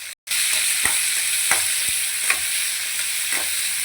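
Onions fry in a pan, giving a dense, steady, bright sizzle close by, with a few faint ticks and taps over it and no talking, after a very short silent gap at the start.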